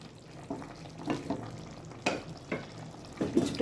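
Chicken and potato curry stirred in a pot, a spoon scraping through the thin gravy in several separate strokes with a faint background sizzle, close and moderately quiet, no voices.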